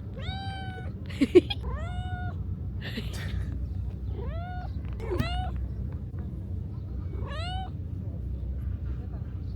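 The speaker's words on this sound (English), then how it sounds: "Little vocal cat." A cat meows repeatedly, about eight rising, drawn-out calls spaced a second or so apart, fairly close, over a low background hum.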